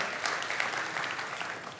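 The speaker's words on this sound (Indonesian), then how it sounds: "Berikan tepuk tangan sekali lagi buat Tuhan." A church congregation claps for a short burst, a soft, even patter of many hands heard at a distance.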